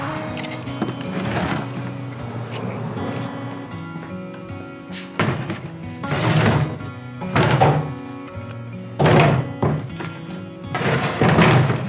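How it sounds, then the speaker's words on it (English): A heavy door rumbles and thuds shut in several loud, grinding bursts, with steady mechanical hum and tonal background noise between them. "let's get this big garage door shut, keep the bees out"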